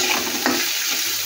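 Food fries in a pan over a high flame, a dense, even sizzle close by with one brief clatter partway through.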